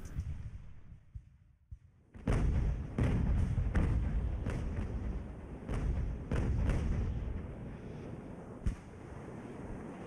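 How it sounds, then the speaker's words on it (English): Ship-of-the-line cannons fire in the naval game Ultimate Admiral Age of Sail, a rapid ragged broadside of heavy booming thuds over a few seconds, rolling under steady wind and battle noise after a brief lull. "Let's get everything on these cannons."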